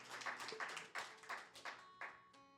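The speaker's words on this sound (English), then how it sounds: "Give yourself a round of applause." Applause from a small audience at a live music session: sparse, quiet clapping comes in uneven bursts and fades out within a couple of seconds.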